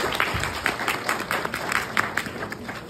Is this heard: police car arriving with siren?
no